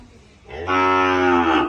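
A single cow lets out a loud, close moo of about a second on a Thai cattle trader's farm. The call rises in pitch and then holds as a steady bellow.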